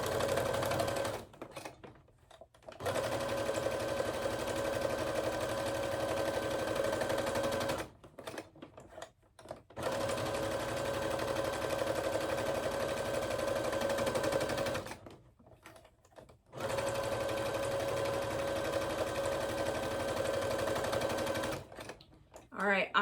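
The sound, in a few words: Brother SE600 sewing machine running after cleaning and oiling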